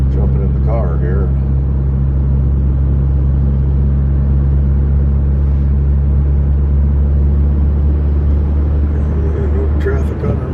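Car driving to work on the road, a steady loud low engine and road rumble throughout, with a brief voice near the start.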